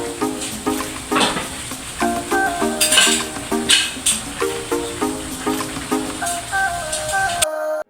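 Sliced green papaya is stirred into boiling coconut milk in a pot for a spicy ginataang papaya with malunggay leaves. A utensil scrapes and clinks repeatedly over steady bubbling and sizzling, close up, under continuous background music.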